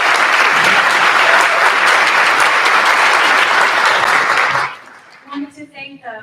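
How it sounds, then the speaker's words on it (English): An audience at a school cabaret night applauds soloists with loud, dense clapping that lasts several seconds before dying down. A voice then begins speaking. "Another round of applause for our soloists."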